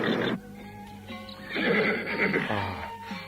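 A horse neighs and whinnies loudly in a staged audio drama scene as it rears up, shrill cries repeating over a few seconds with faint hoof movement.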